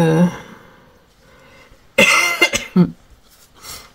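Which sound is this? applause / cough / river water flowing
cough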